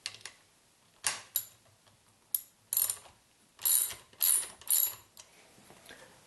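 Ratchet working on Jiffy transmission mounting bolts, giving several short bursts of rapid clicking separated by pauses, close and fairly quiet.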